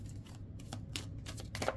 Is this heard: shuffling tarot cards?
yes